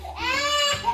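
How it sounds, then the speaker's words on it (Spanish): Loud, close infant crying in one sustained wail that rises and falls, with a short catch of breath near the end; no talking. "escuchen ese llanto. Está fuerte."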